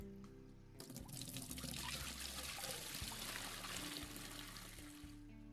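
Salt water pours into an aquarium in a steady, rushing trickling stream that continues unbroken for several seconds, fairly close and without talk.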